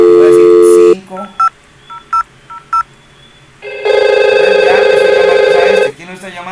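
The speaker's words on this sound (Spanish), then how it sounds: "Escuchen el tono de invitación a marcar" On a VoIP phone line, a loud steady dial tone plays, then several short DTMF key beeps sound, then a long tone follows.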